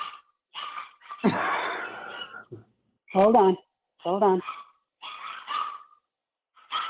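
Household dogs whine and yelp excitedly as a family member arrives home, in short high bursts between stretches of nearby conversation.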